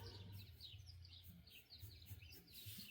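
Birds chirp outdoors in a steady run of short, repeated high calls, faint and somewhat distant, over a low background hum with no talking.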